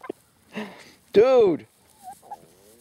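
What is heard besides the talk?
chickens clucking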